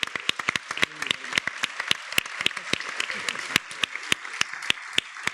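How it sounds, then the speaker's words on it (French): Indoor audience applause for technical staff at a research project presentation, a dense run of sharp individual claps from a smallish group, fairly close, with faint talk beneath. "applaudissez-les"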